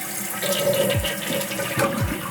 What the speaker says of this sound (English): The foam counterweight held the flapper open and all of that water completed the flush.